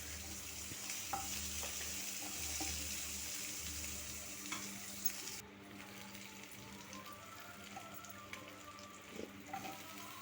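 Capsicum and paneer are sautéed together in a pan for chilli paneer, producing a soft, low-level sizzle with occasional light clicks and stirring scrapes, steady but faint.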